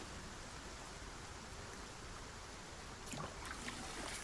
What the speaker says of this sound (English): Just while it's raining and that's things refilling on water.